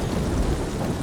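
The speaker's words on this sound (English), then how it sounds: "Now it's raining in the game too," Steady rain with a low rumble of thunder in Ghost of Tsushima, a dense, continuous wash that stays loud and even throughout with no voices.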